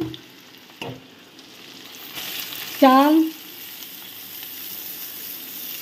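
Ginger and bay leaf drop into hot oil with whole cardamom for basanti pulao, the sizzle swelling and then settling into a steady hiss, with a short tonal squeal in the middle.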